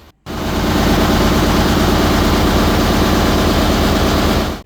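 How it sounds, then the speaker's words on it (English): A loud, steady diesel drone from the engine at the stern of a Mekong River slow boat in Laos, a heavy low rumble that starts abruptly after a brief silence and holds unbroken throughout. "The engine sits at the back of the boat and it is loud."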